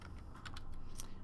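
Keys tapped on a computer keyboard while a trigonometric expression is entered, a few quick close clicks in a short burst.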